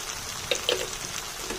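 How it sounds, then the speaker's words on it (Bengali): Ground spices (turmeric, chilli, cumin and coriander powder) frying in a pan for egg curry, a soft steady sizzle with a couple of brief crackling pops, quiet and close, no voices. "এবার সব মশলাগুলোকে খুব ভালোভাবে কষে নেব আমি।"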